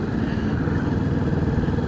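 A motorcycle rides along a rural road in Sweden on a cool day, its engine a steady, loud, close drone with wind rush, heard alone without speech.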